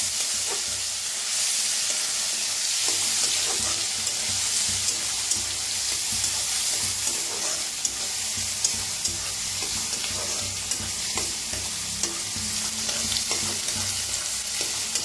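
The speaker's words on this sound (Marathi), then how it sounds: "हिंग, कांदा एक कापून घेतला होता ते, कांदा आता भाजून घेऊया चांगला" Chopped onion with asafoetida frying in a pan, giving a steady close sizzle with occasional scrapes and clicks of stirring, no voices.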